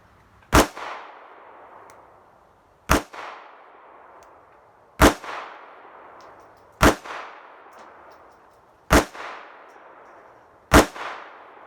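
Six single gunshots from a Smith and Wesson Bodyguard 380 pistol at a shooting range, each a sharp loud crack with a short ringing tail, spaced about two seconds apart at a steady, unhurried pace.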